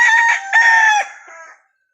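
A freshly caught wild red junglefowl, a labuyo, crows once, loud and close: a clear, clipped crow broken into short phrases that fades out after about a second and a half, with no voices.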